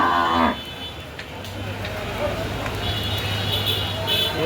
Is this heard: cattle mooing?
yes